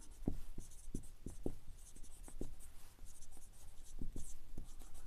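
Writing during a Class 7 math lesson, with short taps and strokes of a pen or marker in an irregular rhythm, close and moderately loud with no talk.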